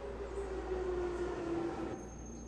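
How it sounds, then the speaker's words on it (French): A metro train passes in the video game Assassin's Creed 3, a steady low rumble with a sustained metallic wheel squeal, moderately faint and continuous, with no talking. "Ah, le métro."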